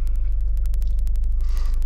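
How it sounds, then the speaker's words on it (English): A Ford Kuga engine runs close by with a loud, fast, even low throb and regular ticking pulses, without voices. "I'll start the car up and I'll turn it around"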